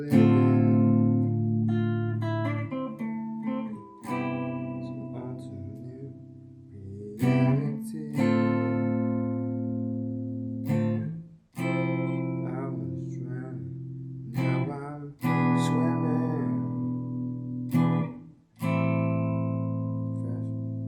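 Acoustic guitar strums chords for the first verse of a song, a sustained progression with several clear chord changes and occasional string attacks, played alone and up close.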